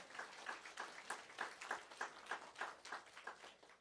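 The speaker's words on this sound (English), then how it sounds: "That does deserve a round of applause." Faint, evenly paced clapping from a small audience at a book club discussion event, with sharp hand claps repeating at a steady rhythm and no other sound.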